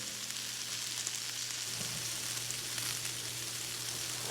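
Sausage, onions and green peppers sizzle in a hot pan on high heat, a steady faint crackling hiss with a low hum underneath and no talking.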